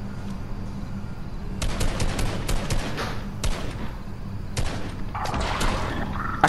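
Gunfire in a battle royale video game: bursts of rapid shots in several clusters, loud and close, with brief gaps between volleys.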